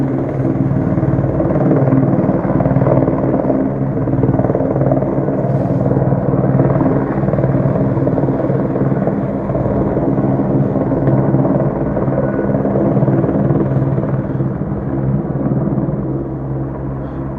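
A helicopter hovers overhead in daylight, its low continuous rotor thrum and engine rumble loud and steady for the whole stretch, with no other sounds competing.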